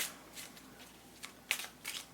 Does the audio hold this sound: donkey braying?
no